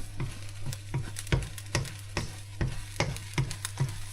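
Eggs sizzle and fry in a pan in a chef's kitchen, with steady crackling and a rhythmic stirring or scraping pattern repeating close up, no voices.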